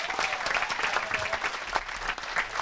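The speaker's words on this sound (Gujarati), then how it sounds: "સંગીતના સાથીદારો રુજુલ શાહ અને મિતેશ ભોજક માટે તાળીઓ થઈ જાય." Audience applause for two accompanying musicians after a long Gujarati talk and music evening, dense steady clapping from a crowd throughout, close and loud with no voices over it.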